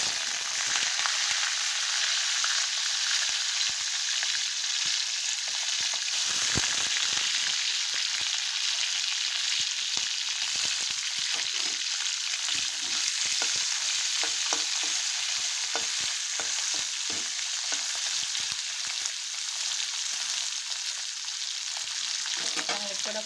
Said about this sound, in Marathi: हे बोंबील धुवून घेतलेले आता आपण ह्या तेलामध्ये तळून घेणार आहोत